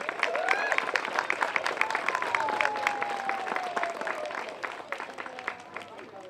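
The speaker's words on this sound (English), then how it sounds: "let's give a round of applause to everybody" An outdoor crowd at a school playground ribbon cutting applauds in sustained, scattered clapping, with a few voices and a whistle-like tone rising over it.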